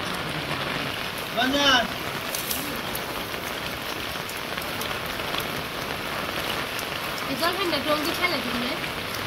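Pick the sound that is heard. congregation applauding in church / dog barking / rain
rain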